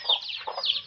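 Hens cluck and chicks peep inside a large coop, several close, overlapping calls in quick bursts with no talking.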